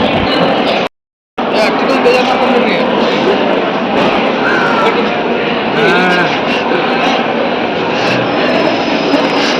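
A train at a railway station on a journey to Mumbai, heard as a loud continuous mechanical rumble and roar with a brief dropout near the start, while voices talk over it.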